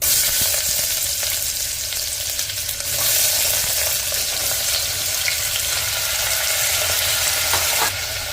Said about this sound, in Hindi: तो जैसे ही हमारा तेल गर्म हो जाएगा इसमें डाल देंगे हम आलू।